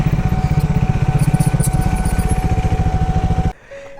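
A motorcycle engine idles loudly and close by in a rapid, even putter while the bike is being parked, then cuts off abruptly near the end, leaving a faint hum.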